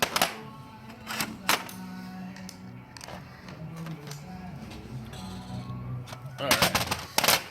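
A 5mm machine screw is tightened during a CoolerWorx shifter install on an Audi B5 S4, with sharp, rapid ratcheting clicks in bursts at the start and end and a rougher mechanical grinding between them, all close up.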